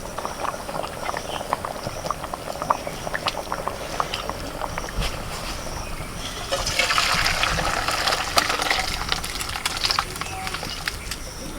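Mutton curry gravy bubbles in a pot, a low, moderately quiet burble of popping boiling liquid that grows busier partway through, with no talking.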